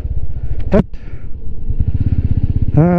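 A motorcycle climbs a hill road with a loud, close, steady engine thrum. A brief clatter comes partway through, and a voice speaks over the engine near the end.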